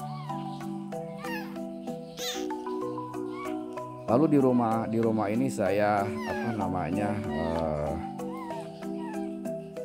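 A baby kitten about one to two weeks old cries out in a run of thin, repeated meows, loudest in the middle stretch, heard over a steady tonal background while a person talks.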